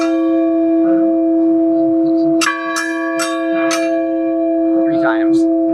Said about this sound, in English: we're going to finish the virtual Walk Around Rathdrum with a ringing of the bell